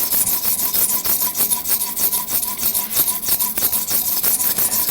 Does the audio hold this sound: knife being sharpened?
yes